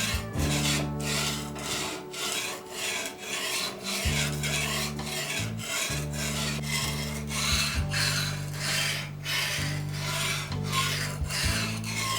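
A knife is stroked repeatedly across a grinding stone on a homemade clamp-and-angle-guide sharpening rig, a rhythmic close rasping scrape, about two strokes per second, over a steady low mechanical hum that briefly cuts out.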